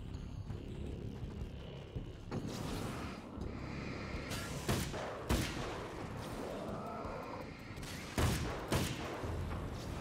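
Rifle shots ring out in the video game Alan Wake's American Nightmare, a few sharp, loud cracks spaced irregularly over a dense, rumbling game soundtrack, with no voices.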